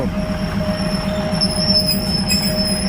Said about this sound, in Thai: มาแล้ว รถดีเซลรางนำด้วย THN 1101กรุงเทพฉะเชิงเทรา